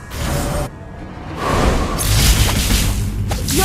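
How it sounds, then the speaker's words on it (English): A turret is destroyed with a loud booming explosion in the mobile MOBA game Mobile Legends, with sweeping whooshes and crashing debris layered over the game's busy background sound. "Your team destroyed a turret."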